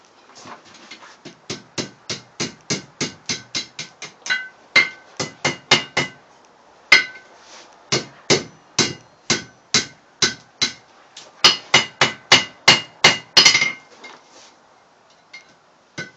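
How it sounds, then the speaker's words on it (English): A hammer taps a metal forge ash rake to knock old ash loose: sharp, ringing metallic strikes in quick rhythmic bursts of about ten to fifteen hits, with short pauses between runs, close and loud, with no voices. "So I just tap it with a hammer, and that gets it to old ash fall out."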